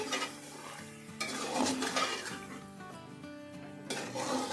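Yogurt and biryani masala are mixed in a pot for aloo chicken biryani, with soft scraping stirs and faint sizzling. Background music plays quietly underneath.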